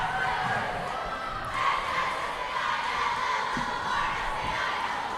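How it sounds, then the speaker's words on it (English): High school girls varsity volleyball cheering squad at a gym, crowd chanting and cheering steadily in a reverberant hall, with thumps of a bouncing ball beneath. "the Sailors cheering squad, absolutely fired up for this game"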